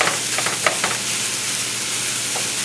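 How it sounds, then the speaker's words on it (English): Sausage sautéing in a pan over high heat makes a loud, dense, continuous sizzle, close up, with a few faint stirring scrapes underneath and no voices. "Now we're going to saute this just like we saute many other things. We're going to cook this until the red color of the sausage is gone"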